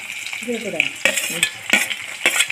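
Garlic sizzles steadily in hot oil as it is stirred in a pan for mango pickle, with a few sharp scraping strikes of a spoon against the metal.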